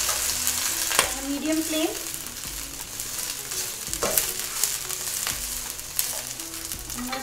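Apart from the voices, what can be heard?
broccoli stir frying in a pan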